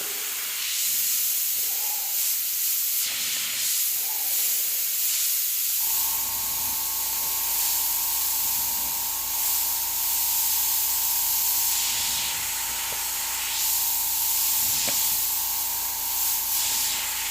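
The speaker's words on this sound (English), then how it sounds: "I have a spray bottle with water that I flush everything with. I spray through it." An airbrush sprays water through to flush and clean it, a steady close hiss that runs continuously with a brief gap early on, then holds level to the end.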